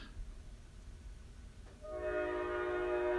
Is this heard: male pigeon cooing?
no